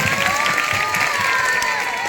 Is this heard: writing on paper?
no